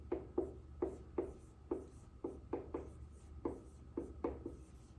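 Pen writing numbers on paper, a quiet series of short scratchy strokes in an irregular rhythm, close and faint, with no talk.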